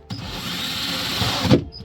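A power drill bores a hole through a fiberglass boat hull, a short steady whine that starts abruptly, grinds on for about a second and a half, then cuts off close to the microphone.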